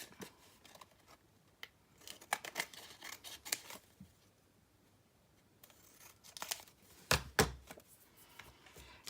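Scissors snip and trim a paper junk-journal tag, with scattered close, crisp cuts and paper rustles in quiet bursts, clustering more densely toward the end, and no speech.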